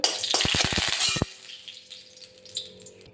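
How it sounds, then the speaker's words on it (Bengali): Three dried red chillies hit hot oil in a pan with a loud burst of crackling sizzle and a few sharp pops, then the sound drops quickly to a faint, quiet hiss. "এবার আমি এটা এটা আমি তেলে দেব এই যে তিনটে শুকনো লঙ্কা দিয়ে দিচ্ছি"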